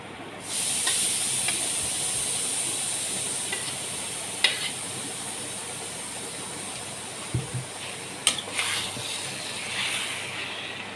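Fried jackfruit and potatoes are stirred into a cooked masala in a pan, giving a constant close hiss and sizzle broken by a few brief clatters of the spoon.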